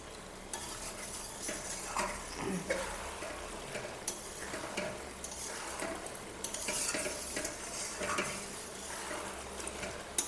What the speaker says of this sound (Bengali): এখন সুন্দর করে কষিয়ে নিতে হবে।